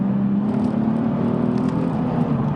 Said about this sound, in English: I'm gonna rev down, and you hear that the engine actually revs up and it matches the road speed